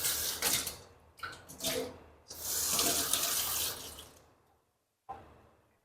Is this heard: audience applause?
no